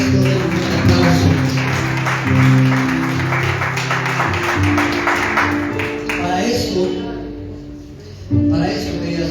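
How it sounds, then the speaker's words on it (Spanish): A church congregation applauds at a Christian service in Cusco, a thick patter of many hands over sustained musical tones, swelling and then easing toward the end. "Den un aplauso"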